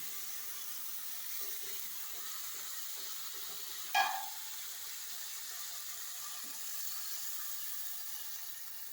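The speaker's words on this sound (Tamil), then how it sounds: "நம்ம இப்போ 3ஆவதாக எடுத்து வச்ச பாலை சேர்த்துக்கலாம்" Third coconut milk extract is poured into sambar over chili powder that was briefly sautéed in the pan. It makes a steady, soft hiss of liquid with one short clatter partway through, and no one talks.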